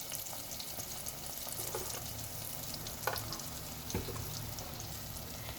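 Spices sizzle steadily in oil in a pan over a low flame while cooking flat beans, potato and fenugreek, with a soft continuous crackle and a couple of brief clinks from stirring.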